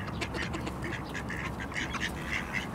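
Ducks quack busily at close range while being fed porridge, with pigeons crowding around outdoors on an island; the calls come in quick overlapping bursts over a steady background hum.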